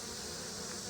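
A swarm of honeybees fanning hard as they gather around a beekeeper, giving a steady, dense buzzing hum that stays close and constant throughout.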